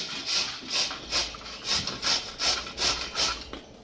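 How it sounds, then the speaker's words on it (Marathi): Pumpkin is rubbed back and forth on a grater in about nine even, rhythmic rasping strokes, close and clear with no talking. "आता किसून एकदम बारीक मस्त असं किस करून घ्यायचं आहे"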